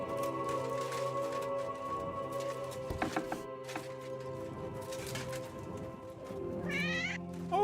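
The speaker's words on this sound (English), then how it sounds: "Oh, kitty!" A cat meows in the medieval role-playing game Kingdom Come Deliverance 2, several short calls rising over a steady musical and ambient game background, with a brighter cry near the end.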